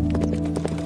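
Horse hooves clip-clopping in a steady trotting rhythm as a team pulls a chariot in an animated scene, close and fairly loud over a low continuous background hum.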